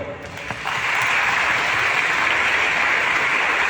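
A Catholic parish congregation applauds during Mass: a dense, sustained patter of many clapping hands that swells within the first second and holds steady to the end.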